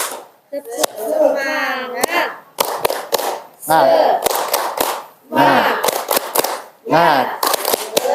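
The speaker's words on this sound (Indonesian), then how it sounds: "hitungan ketiga kita tepuk semangat" A school class performs a rhythmic spirit clap chant, sharp unison handclaps in quick patterned bursts alternating with children's shouted voices, loud and close in a classroom.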